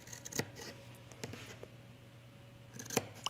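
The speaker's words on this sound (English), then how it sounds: "I'm grabbing a different pair of scissors for this. You need a very sharp point. I'm going to trim just to that corner." Sharp-pointed sewing scissors trim a fabric corner while a tunic is being made, with a few crisp snips spaced apart over a quiet room background.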